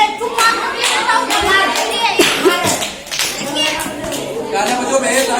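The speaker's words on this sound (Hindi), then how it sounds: "तालियां बजाओ है।" Scattered hand clapping from a village crowd at a Ganesh Chaturthi 2021 games prize-giving in Limbi Chincholi, with children's voices and chatter mixed in around the claps.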